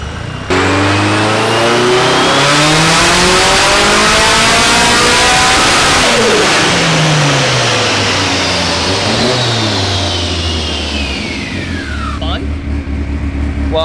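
Car engine with an inline turbo setup revving hard on a dyno, loud and close, rising and falling through repeated sweeps before dropping off near the end, with an engine roar filling the whole stretch.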